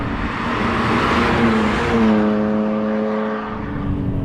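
A BMW E46 M3 engine revs up loudly and then falls back, a throaty, sustained roar from close range.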